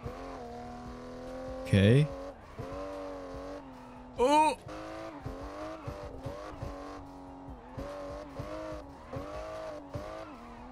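Car engine revving and shifting in No Hesi while drifting through traffic, with two loud bursts of tire squeal breaking through the engine note and a short spoken word partway through.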